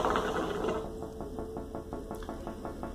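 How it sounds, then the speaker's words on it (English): Sections of a Deezer Freeze hookah hose are unscrewed from the base and top, giving quiet rapid ratcheting clicks in an even rhythm, close and faint. "You can unscrew it from the base, you can unscrew it from the top and this middle part."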